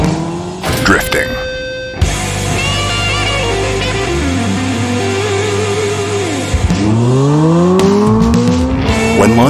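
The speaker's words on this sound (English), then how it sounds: "Drifting." A Hyundai Ioniq 5 N drifts with loud, sustained tire squeal, its pitch sliding up and down through long skids, with a brief pause before the screeching resumes close and strong.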